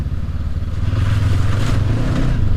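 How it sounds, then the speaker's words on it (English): Suzuki V-Strom motorcycle accelerating hard on an Oregon road, a continuous loud engine roar with wind noise, heard up close. "basically Joe is just tearing it up on this V Strom here"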